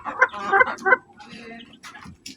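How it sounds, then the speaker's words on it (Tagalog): Pet chickens being fed coconut in the late afternoon cluck in short bursts, close and fairly loud, with pauses between them and a few sharper calls toward the end. "Dinner na ng mga manok."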